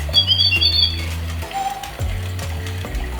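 A realistic toy bird gives off high electronic chirps and warbles over a steady mechanical whirring and ratcheting hum from the toy, loud and close.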